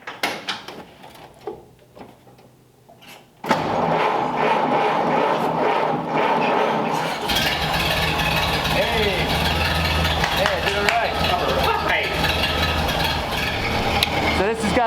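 A Ford F600 hot rod hauler truck engine idles with a loud, steady rumble after a quiet start, dropping slightly as the throttle is turned down, while someone talks over it.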